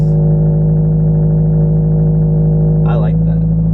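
A slammed Subaru BRZ's engine and exhaust hum in a steady, loud low drone that holds through the whole stretch, with a brief higher rasp near the end as it drives by.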